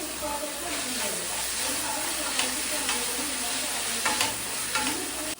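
Chicken with capsicum and chopped coriander stirred in a hot pan, a loud sizzle with repeated scraping strokes of the spoon every second or so, close up with no talk.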